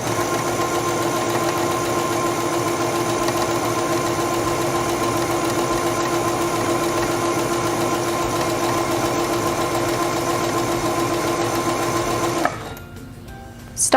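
A sewing machine runs steadily for about twelve seconds, stitching a serpentine stitch through quilting fabric with a constant mechanical whir, then stops abruptly, leaving near silence before a small bump at the end.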